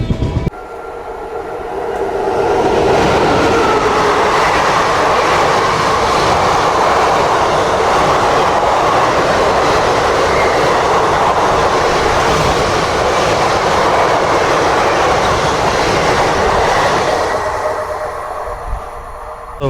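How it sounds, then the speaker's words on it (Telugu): A Secunderabad to Vijayawada passenger train rolls along after leaving Ghatkesar, a loud steady rumble with wheel clatter that swells in after a couple of seconds and eases toward the end. "ట్రైన్ గట్కేసర్ నుంచి అయితే బయలుదేరిపోయింది"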